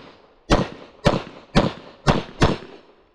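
Five sharp handgun shots fired at a USPSA practical shooting match outdoors, evenly spaced about half a second apart, loud and close with short decays and no talk.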